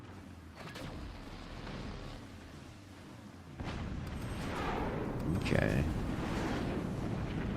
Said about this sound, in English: God, the howitzers are pummeling